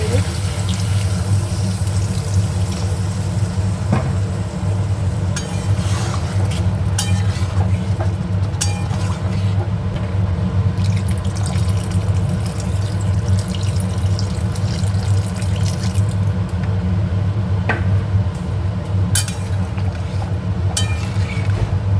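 Steady running water poured into a bowl while cooking a prawn and pointed gourd curry, a continuous near wash of liquid with faint kitchen clatter and someone speaking over it.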